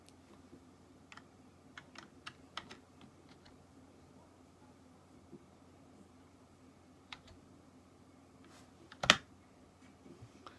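Scattered keystrokes on a computer keyboard, irregular taps with pauses between, mostly faint, with one louder clack near the end over a low room hum.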